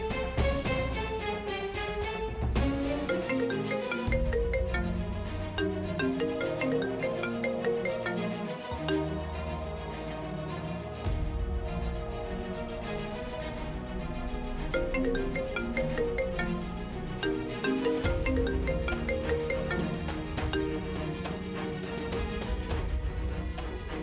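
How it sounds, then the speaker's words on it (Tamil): A phone ringtone for an incoming call from the office plays as a bright, looping melodic tune, loud and continuous for the whole stretch with no talking over it. "மீரா, ஆபீஸ்ல இருந்து கால் வருது"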